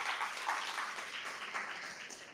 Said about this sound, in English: So let's just give a round of applause to all of you for being part of this hackathon.